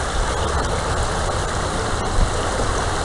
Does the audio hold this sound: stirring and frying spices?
no